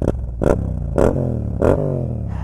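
A motorcycle engine with an aftermarket Akrapovic exhaust rumbles nearby with a deep, throaty note, blipping the throttle in three or four quick revs that rise and fall.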